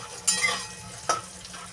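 Homemade lentil bori frying in a pan, a short close sizzle with two sharp bursts of spattering as the pieces are moved, no talk.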